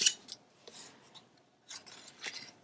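Scissors snip diagonally through patterned craft paper, crisp close-up cuts in two short bursts separated by a quiet pause.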